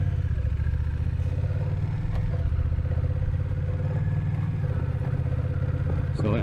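A Honda Rebel 1100 DCT motorcycle is ridden with its dual-clutch transmission shifting quickly, giving a steady, close engine drone with slight changes in pitch. Someone talks over the engine.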